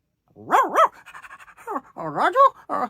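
A voice actor imitates a cartoon dog, giving loud, close panting breaths followed by yappy barks and whimpering yips in quick bursts, delivered alone with no other sound.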